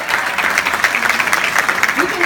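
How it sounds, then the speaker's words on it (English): Sustained clapping from a conference audience, steady and broadband throughout, with a voice faintly audible beneath. "let's give ourselves a round of applause"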